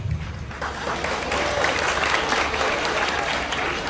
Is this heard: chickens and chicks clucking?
no